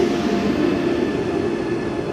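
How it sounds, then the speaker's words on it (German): A locomotive pulling into a station platform, a steady low rumbling drone with faint high whine, continuous and fairly loud, with no speech. "Und hier kommt die Lok."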